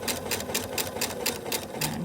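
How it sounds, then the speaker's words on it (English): A sewing machine stitches steadily along a seam allowance line, its needle producing a quick, regular mechanical chatter that runs unbroken and close up with no one speaking. "So then I continue sewing so that I continue on that seam allowance line."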